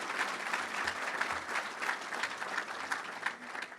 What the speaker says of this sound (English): if we could get a nice round of applause for them